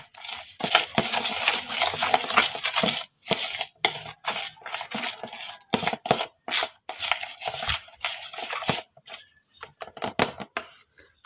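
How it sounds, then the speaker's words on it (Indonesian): Repeated scraping and clicking of a utensil stirring a thick fishing bait mixture for tilapia in a container, irregular strokes close by, with no talk. "Oke, kita aduk-aduk dulu."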